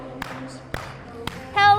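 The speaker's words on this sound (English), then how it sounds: "And clap." Three sharp, evenly spaced claps from dancers in a dance class, each ringing out against a quiet background before a voice breaks in at the end.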